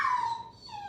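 A pet dog named Honey gives a short high whine indoors in a kitchen, one drawn-out falling whimper that trails off, faint and brief.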